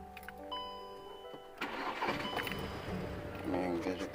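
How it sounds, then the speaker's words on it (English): A car engine cranks and catches, then settles into a steady running rumble close by, with a person talking faintly over it; the car has a manual transmission that won't go into gear. "let me go ahead and start the car"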